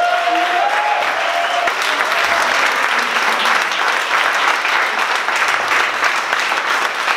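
Sustained, loud applause from a church audience acclaiming the Lord, dense, even clapping filling the room for several seconds without a break.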